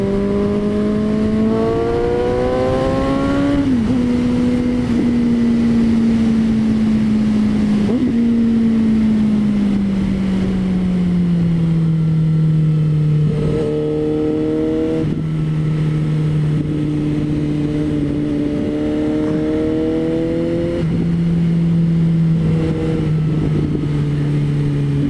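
A car's engine revs loudly and continuously through a series of corners, pitch rising and falling as it accelerates, shifts and eases off, heard close with no talking.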